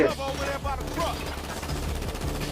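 Rapid automatic gunfire in the video game GTA V on PS4, a dense continuous burst of shots layered over game music and effects throughout.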